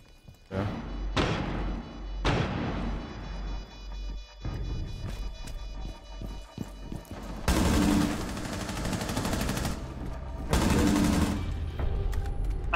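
Gunfire in the Rainbow Six Siege video game: several sharp single shots and thuds, then long, loud bursts of rapid automatic fire, close and dominant, with no voices heard.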